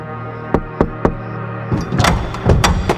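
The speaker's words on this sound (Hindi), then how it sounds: "तभी उसके दरवाजे पर एक हल्की सी दस्तक हुई" A light knock lands on a wooden door, three soft separate taps followed by a busier stretch of knocking and shuffling movement, close by in a quiet room with no voices.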